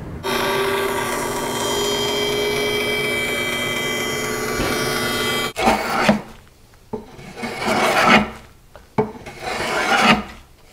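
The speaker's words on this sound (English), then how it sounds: "I can put that up against the fence of my bandsaw and cut these to final width" Bandsaw cutting walnut pieces to final width against the fence: a steady loud blade rasp for about five seconds, then shorter bursts of cutting and rubbing.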